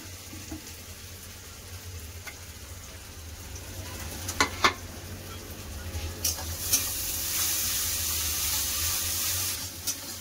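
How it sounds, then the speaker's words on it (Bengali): Onion fried with ginger garlic paste in a pan sizzles steadily and close, with a few clinks of a spatula stirring, and the hiss swells brighter toward the end. "যতক্ষণ না আদা রসুনের কাঁচা গন্ধটা যাবে ততক্ষণ আমি ভেজে নেবো।"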